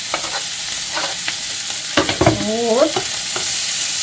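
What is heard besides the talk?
meat being stirred and fried in flour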